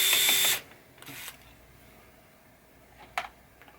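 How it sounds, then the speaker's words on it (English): Brief mechanical whirring bursts of screws being backed out of a relay on a Bally Bow & Arrow pinball machine, one longer burst at the start, then short bursts with quiet gaps. "we'll just take these 2 screws out here that hold this relay"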